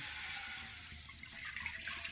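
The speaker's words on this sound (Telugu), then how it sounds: "ఒక కప్పు రవ్వకి నేను నాలుగు కప్పులు నీళ్ళు పోసుకుంటున్నాను" Water streams steadily with a bright rushing hiss, close and continuous, as four cups of water per cup of semolina are poured into a pan for rava kesari.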